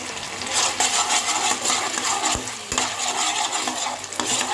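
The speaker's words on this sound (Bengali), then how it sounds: "এইবারে 2 মিনিটের মতো এটা আমি একটু মিডিয়াম হিটে কষিয়ে নেব।" Spices and chili powder fry in a pan over medium heat while being stirred, a dense close sizzle with scraping and a couple of sharp metallic knocks of the spoon.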